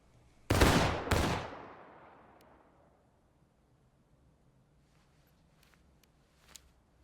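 Two close musket volleys crack out in quick succession in the War of Rights video game, each loud blast followed by a long rolling echo that fades, with a few faint scattered shots afterward.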